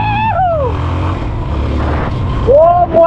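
A 250cc motorcycle engine revs up and down loudly close by, its pitch rising and falling over a steady rumbling idle.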